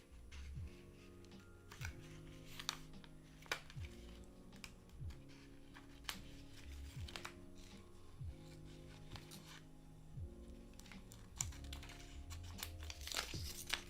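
Scissors cutting out paper shapes for a planner, with repeated snips and crisp paper rustling at close range, quiet and continuous, no talking.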